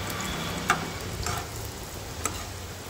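Chopped onion fries in a pan on a medium flame, a steady low sizzle with a few small ticks and pops, faint and alone without talk.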